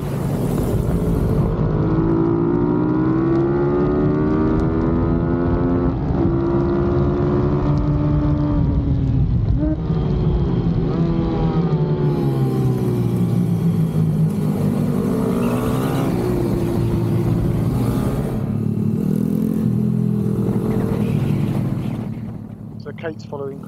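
Honda CRF150 pit bikes riding an outdoor race track at Kinsham Raceway, their engines buzzing and revving continuously with rising and falling pitch as they pass, loud and close throughout, under a commentator talking.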